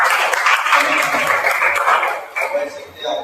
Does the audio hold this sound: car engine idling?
no